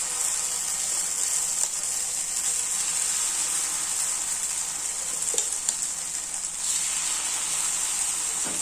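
Millet uthappam batter sizzles on a hot griddle stone, a continuous bright frying hiss with small crackles and a faint stirring scrape, close and alone without talk.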